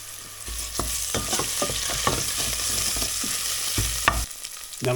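Sausage with its casing broken sizzles steadily in hot oil in a pan over medium heat, with a constant crackling hiss and scattered sharper pops and scraping clinks throughout.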